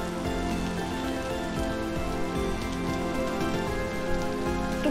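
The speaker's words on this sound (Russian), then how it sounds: "Дождь." Steady rain patter in a video game, with scattered droplet ticks, constant and fairly close, over a low background hum and music-like tones; no talking.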